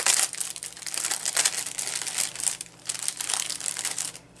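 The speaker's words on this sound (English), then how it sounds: "there will be a crinkle alert on here because I'm crinkling the papers" Papers and plastic crinkle close up in a run of rapid, loud, irregular crackling bursts while gems are sorted, with no talking over it.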